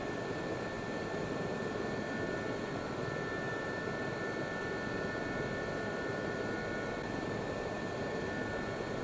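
An F-15 jet taxiing in the DCS flight simulator, a steady whining engine drone with high tonal hum, continuous and moderately loud throughout with no speech.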